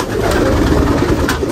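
Low, soft pigeon coos repeat in a gentle rolling rhythm, close by, over a faint background hum.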